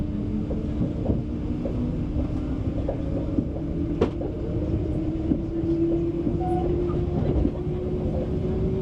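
Passenger train running on rails toward central Paris, a steady rumbling roll with a low sustained tone and occasional clicks and squeals, continuous and fairly close throughout, with no talking.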